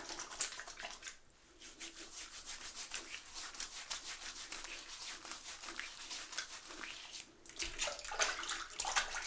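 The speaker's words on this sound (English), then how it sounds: "Phoenix Artisan Accoutrements, pre-shave cube on the face. We're going to work it in." A Phoenix Artisan Accoutrements pre-shave cube is rubbed over a face, giving a soft, close, continuous scrubbing and swishing with a slightly wet texture, quiet and steady throughout.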